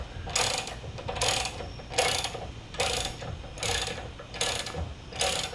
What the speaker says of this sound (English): 17 mil wrench to screw it in.